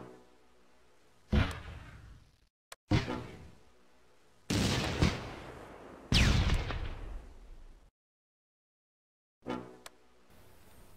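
Heavy gunfire and artillery in the Close Combat war video game, loud sharp blasts and bursts in separate volleys with decaying rumbles, broken by brief silences and a crack of a single shot.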